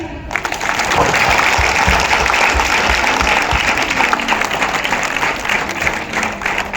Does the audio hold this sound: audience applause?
yes